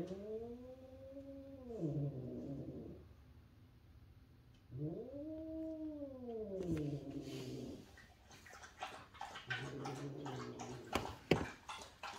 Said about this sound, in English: The cat is growling at the dog.